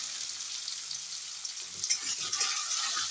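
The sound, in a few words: ghee karela (bitter gourd) slices frying in a pan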